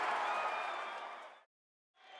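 A roaring stadium crowd cheers in the MLB 15 baseball video game as a Giants win ends on an unusual play. The broad wash of noise fades, breaks off for half a second, then resumes.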